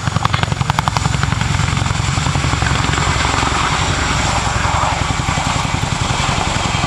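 A twin-rotor Chinook helicopter powered by two 5,000-horsepower Honeywell engines makes a high-power departure. Its loud, rapid rotor chop pulses close by at first, then blends into a steady roar of engine and turbine noise.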